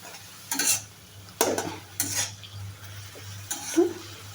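Cabbage being stirred and sautéed in a pan, with a few separate scraping stirs against the pan over a low steady hum, moderately close and fairly quiet, with no talking.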